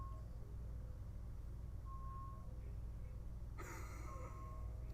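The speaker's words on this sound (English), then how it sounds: "I hear beeping. What the heck's that?" Brief electronic beeping from a vehicle or equipment somewhere outside the room, thin and intermittent under a steady low rumble, followed by a louder burst of broadband noise near the end.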